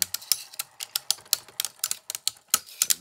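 Beyblade Burst spinning tops, Chain Kerbeus and Perfect Phoenix, clash in a plastic stadium, producing a fast irregular series of sharp clicks and clacks, close and loud, with no talk over them.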